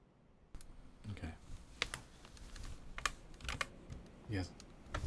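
Computer keyboard typing close to an ASMR microphone, bursts of crisp key clicks in irregular clusters with brief pauses, fairly quiet and heard alone.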